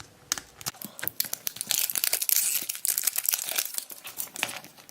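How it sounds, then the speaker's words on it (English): A plastic wrapper on a mini brands surprise toy pulled open by its tear strip, a close burst of dense crinkling and crackling that builds into a sustained rip midway, then more scattered rustles. "Once we get that off, there is another layer of plastic. I am looking for the tear strip."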